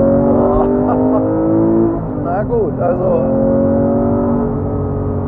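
A 2016 Porsche 991 R with a six-speed manual and 500 hp holds a steady, loud engine drone with a rising and falling revving tone, while someone speaks briefly over it.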